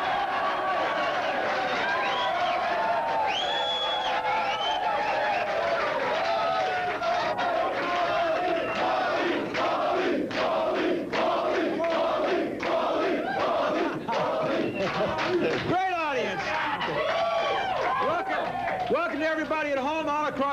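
A studio audience packed into three filled balconies roars and cheers throughout, loud and sustained, with shouts and whoops rising over a dense crowd wash and bursts of clapping near the end.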